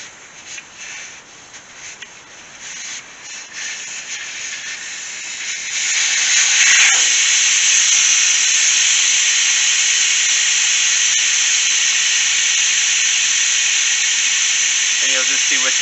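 Air hissing steadily out of a Kioti tractor tire once its valve stem is pulled, a loud continuous broadband rush that swells after a few seconds of rustling and handling, then holds constant close to the microphone.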